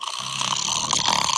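Someone snores in a steady, rasping breath that fills about a second and a half, loud and close.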